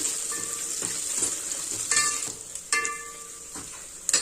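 Onion, curry leaves and spices sizzle steadily in hot oil for tempering, a bright hiss with occasional scraping stirs of a spoon against the pan.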